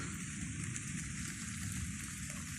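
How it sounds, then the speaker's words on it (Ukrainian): Steady summer rain falls in a continuous soft hiss, even and unbroken, with no voices during the downpour. "Піднялися хмарки і пішов дощ."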